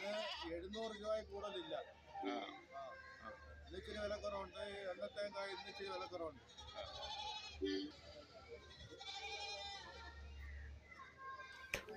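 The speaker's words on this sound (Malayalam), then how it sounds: "ഇവിടെയും വലിയ മുട്ടനാട് നിൽപ്പുണ്ട്" Goats bleat repeatedly amid a busy outdoor crowd at a goat market in Kerala, their wavering cries mixing with nearby voices and chatter throughout.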